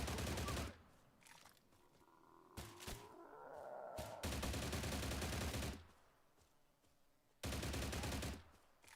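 Video game gunfire comes in loud, dense automatic bursts, one long burst at the start, another in the middle and one near the end, with quieter gaps and a few single thuds between them.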